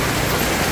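Steady rain falls in a rural provincial setting, making a dense, even hiss that fills the brief moment without any break or speech.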